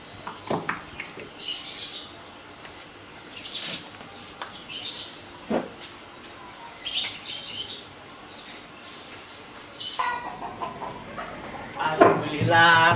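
Pet birds chirp in short bursts, the calls coming in irregular clusters at moderate distance, with a voice speaking in between.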